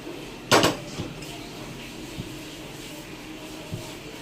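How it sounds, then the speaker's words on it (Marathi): A metal kadhai is set down on a lit gas stove with one sharp clank, followed by a few faint knocks and a low background hiss in a quiet kitchen. "गॅस पेटवला, आता कढई ठेवते बघा"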